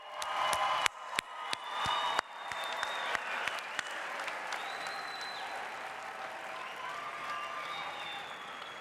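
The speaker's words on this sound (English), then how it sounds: "a round of heartfelt, vibrant, and emotional applause to you." Applause from a commencement crowd honoring the graduating class of 2022 at Western University of Health Sciences, opening with a few sharp, close claps before settling into steady, dense clapping from a large audience, with faint scattered cheering.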